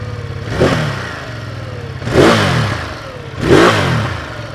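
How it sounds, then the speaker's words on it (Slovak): A Ducati Multistrada 1260 Enduro 2019 twin-cylinder Desmo engine idling with a low, lumpy throb, punctuated by three sharp throttle blips that rev up and quickly fall back, close and loud. "Takto znie mohutný dvojválec Ducati s Desmo rozvodom."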